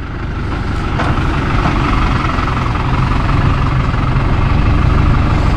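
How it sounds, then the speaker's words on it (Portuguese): A truck's heavy diesel engine rumbles steadily nearby on a farm, a loud low continuous drone that swells slightly as it draws closer, with no talk over it. "Tem um caminhão vindo aí."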